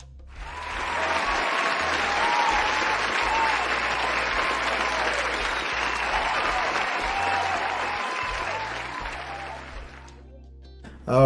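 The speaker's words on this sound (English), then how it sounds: "Let's do a quick applause." A crowd applause sound effect: a dense, loud wash of many hands clapping that swells, holds steady for about ten seconds, then fades out.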